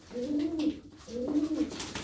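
Two soft, rounded pigeon coos, one after the other, close by and fairly quiet against light background noise, with no voices.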